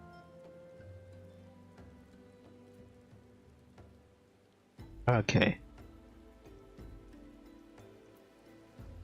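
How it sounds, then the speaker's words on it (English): Steady light rainfall in the Final Fantasy XIV online game world, a soft continuous patter under faint game music, with a brief loud clattering burst midway and a single spoken word. "It's all raining."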